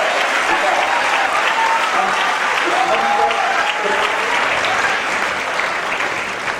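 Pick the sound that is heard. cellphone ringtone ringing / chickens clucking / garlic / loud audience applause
loud audience applause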